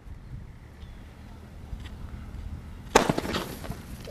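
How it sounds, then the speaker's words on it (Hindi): A penta sky shot Diwali firework launches outdoors, with a faint whoosh under wind noise followed by a sudden sharp crackling burst of pops near the end. "तो अब टेस्ट करते हैं हमारे पास इस टाइप के पेंटा स्काई शॉट का, देखते हैं ये कैसा चलता है।"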